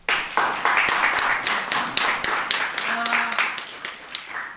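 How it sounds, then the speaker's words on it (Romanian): A crowd at a Romanian community event marking the union with Bukovina claps steadily. The dense, close applause runs the whole time, with some voices mixed in beneath it. "Aplauze."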